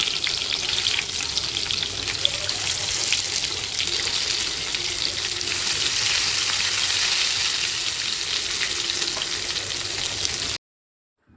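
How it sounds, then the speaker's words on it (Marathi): Steady, loud sizzling of brinjal frying in a hot wok, a continuous crackling hiss that cuts off abruptly near the end. "वांगे आता कढईमध्ये सोडलेली आहेत"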